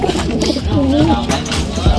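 Pigeons coo softly in a low, rolling call against a busy background, with some faint talk mixed in.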